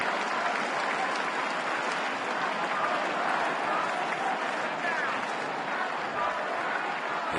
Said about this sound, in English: A big crowd here at Fenway